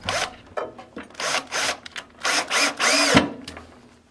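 A power driver whirs in repeated short bursts, driving screws to fix a wooden pantry shelf, with a rhythmic stop-start pattern of buzzing pulses at close range and no talking.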